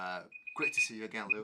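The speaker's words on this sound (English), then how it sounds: "Oh, that's my alarm." Alarm beeping in a live-stream studio: a thin, high electronic tone that sounds repeatedly under a man's greeting and chatter.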